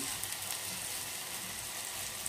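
Tomato sauce with powdered spice and a splash of water simmers in a pan, giving a steady, soft, even sizzle and bubbling hiss with no pauses and no voices.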